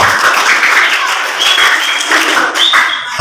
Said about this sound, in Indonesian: Biasa tepuk tangan sadayana.